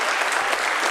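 Steady, dense applause from a crowd in a state Senate chamber at adjournment, many hands clapping together without a break, fairly loud throughout.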